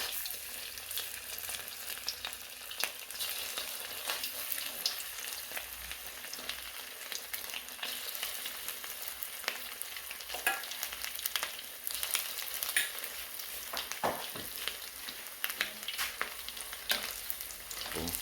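Pork fish cakes (tod man) bound with curry paste fry in hot oil in a steady, close crackling sizzle that runs unbroken and loud with no voices.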